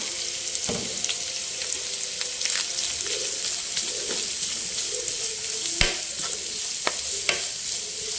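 Chopped vegetables fry in hot oil with a continuous soft sizzle, punctuated by occasional stirring scrapes and a couple of sharper utensil taps, heard alone without speech.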